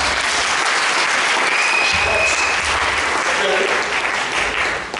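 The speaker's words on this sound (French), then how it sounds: "Acclame Jésus" A church congregation at a service applauds steadily, a dense, close wash of clapping that holds throughout and fades slightly at the close.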